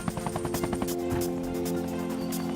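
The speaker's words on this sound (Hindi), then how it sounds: "हम हेलीकॉप्टर से जाते हैं।" A cartoon helicopter in a Hindi-dubbed Tarzan animation, its rotor beating in rapid rhythmic thumps that blend into a steady whirring engine drone, loud and close with no speech.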